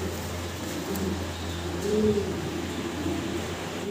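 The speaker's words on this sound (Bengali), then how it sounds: "অসাধারণ সুন্দর এক পেয়ার আমরা কবুতর দেখতে পারতেছি।" A pair of American-breed pigeons for sale coo softly, with one low, rounded call near the middle over a steady background hum and no talk.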